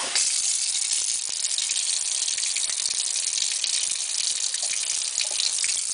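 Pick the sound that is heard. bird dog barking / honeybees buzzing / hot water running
hot water running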